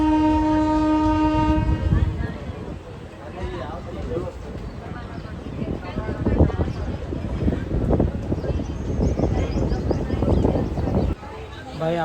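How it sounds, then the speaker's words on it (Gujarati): An Indian Railways train leaves Badodar station on the Jamjodhpur–Veraval line, opening with a long, loud horn blast before settling into a steady rolling rumble and wheel clatter, with someone speaking over the noise. "આપણે ડિપાર્ચર મળી ચૂકી છે બડોદર રેલવે સ્ટેશન ઉપરથી."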